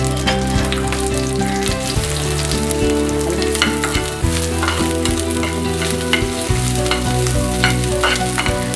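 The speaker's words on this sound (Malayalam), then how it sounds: "ചുവന്നുള്ളി വറുക്കാൻ വേണ്ടി ഇടുക" Shallots fry in hot coconut oil with curry leaves, mustard seeds and a little rice for a Kerala dal tempering. A loud, close sizzle runs throughout, and stirring clatters now and then.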